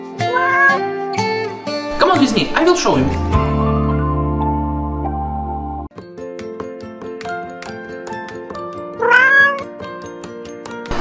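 A cat meows several times in short rising calls, mixed with bright music and children's voices talking nearby; the meows stand out near the start and again toward the end.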